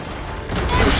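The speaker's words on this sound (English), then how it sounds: "Explosion detected in enemy abductor." A loud, dense explosion blast on an enemy abductor in the game Freedom Wars, one short burst of noise that swells toward the end.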